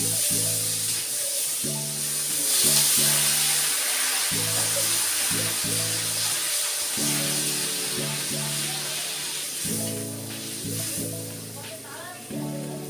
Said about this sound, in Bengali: আর দেখো ঝোলটা ফুটে উঠেছে